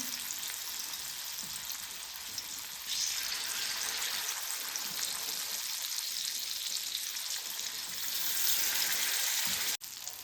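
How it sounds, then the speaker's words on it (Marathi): Boi fish fries in hot oil in a pan over a low gas flame, giving a steady, close sizzle throughout with a slight rise in intensity partway and a brief sharp click near the end, with no talking. "त्याच्यामध्ये फ्राय घालून घ्यायची मच्छी आणि गॅसचा फ्लेम स्लो करायचा आहे"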